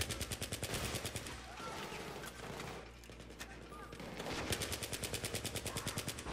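Battlefield 3 co-op mission gunfire: long machine-gun bursts of rapid, evenly spaced shots at the start and end with a quieter gap between, loud and close, while players talk over the action.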